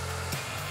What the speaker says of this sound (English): at the same time, you blow dry it so it gets that sort of round shape